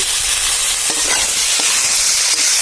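A spice paste with dried chili powder and a few green chilies fries hard in a pan for a fish and radish ghonto, making a loud, dense sizzle with occasional clicks of a spoon stirring.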